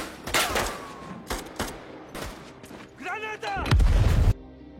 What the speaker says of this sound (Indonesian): Baku tembak pun kembali terjadi.